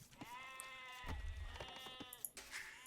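Sheep bleat in a video game match, a long wavering bleat joined by overlapping bleats from several animals, moderately loud over a soft game background with scattered clicks.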